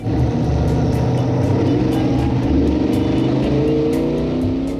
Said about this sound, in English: it's a 38 Chevy Gasser